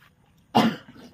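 A person nearby sneezes once, a sudden sharp burst rising out of near silence and trailing off quickly, with faint room tone before and after.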